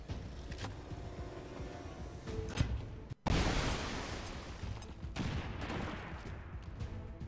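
Gunfire from shooting an enemy in XCOM 2, a turn-based tactics game: a sharp crack cuts through a steady background, then a dense, sustained burst of loud fire rolls on with reverberant tails.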